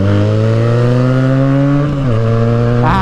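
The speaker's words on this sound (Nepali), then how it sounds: "केटा मेरो बाइकको साउन्ड राम्रो छ कि त्यो अगाडि बाइकको साउन्ड राम्रो छ" A Benelli TNT 300 motorcycle engine revving loud and close, holding a steady high idle before dropping and then rising sharply in a quick blip at the end.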